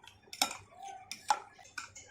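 A spoon clinks and scrapes against a bowl while yogurt is stirred and whisked smooth for kadhi pakoda, a few soft, close, irregular taps and clicks.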